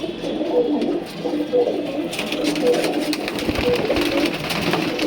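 Racing pigeons coo in low, repeated rolling calls close by in their loft, with light rustling and scuffling throughout.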